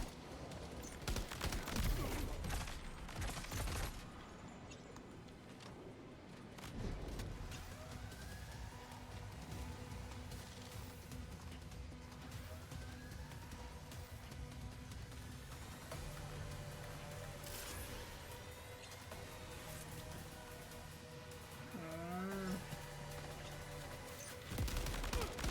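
Gunfire erupts in a busy game battle in Death Stranding 2, dense bursts and rattles over a constant roar of engines and wailing siren-like tones, loud throughout.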